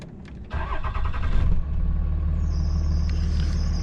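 Truck engine starting up then running at a steady rumbling idle, with a faint high-pitched squeal appearing over the drone in the later part, loud and close, no speech.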